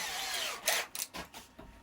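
A power drill with a 4.5mm bit whines and bites briefly into wood for pen turning, with a few short grinding bursts as it starts and stops, close and fairly loud.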